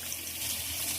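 Water splashes into a pan of spiced vegetables while cooking a Bengali tenga fish curry with bitter gourd, potato and drumstick, a brief steady pouring rush close by.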